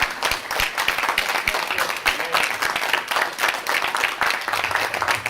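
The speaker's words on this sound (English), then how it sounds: "Give him a round of applause." A convention panel audience claps for comic creator Larry Hama, sustained applause with audible individual hand claps, moderately loud and fairly close, with no voices over it.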